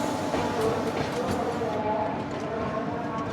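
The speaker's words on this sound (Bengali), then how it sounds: "ট্রেন নাম্বার 12841 করমণ্ডল এক্সপ্রেস পার হচ্ছে" The Coromandel Express, train 12841, passing close by as a continuous loud rolling rumble of wheels on rails with faint rhythmic clatter, heard steadily throughout, with some talk in the background.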